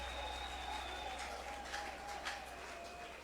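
A congregation applauding during a night prayer service in Kinshasa, a distant, faint wash of clapping and crowd noise over a steady hum, with sustained tones and murmured voices in the background.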